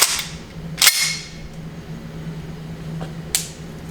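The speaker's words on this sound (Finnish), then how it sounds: "Kokeillaan pari paukkua." Shots from an Ensio Firearms KAR-21 rifle: a few sharp, loud cracks spaced apart, each snapping out and fading quickly against a quiet background.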